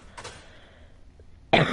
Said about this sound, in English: I apologize for coughing like directly into my mic too